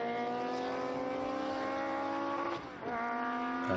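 A historic Chevron race car screams past at the Estoril circuit, its engine a loud, steady high-pitched wail with a brief dip as it shifts or lifts, then pulls on.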